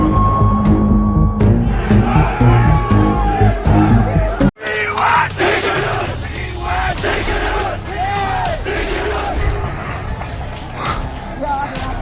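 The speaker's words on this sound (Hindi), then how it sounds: "भीड़ जुटी, नारे लगे और विरोध की गूंज हर तरफ सुनाई देने लगी" A large protest crowd in Ladakh shouts and chants slogans, loud and close. Overlapping yells and voices run throughout, with a brief break partway through before the clamor resumes.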